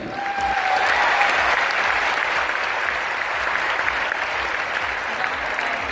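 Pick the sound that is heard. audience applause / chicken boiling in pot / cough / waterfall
audience applause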